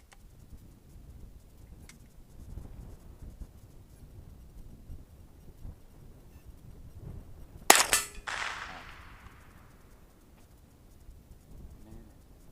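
A single loud rifle shot cracks out at a shooting range, a sharp close report with a brief decaying echo, set against quiet outdoor background rumble.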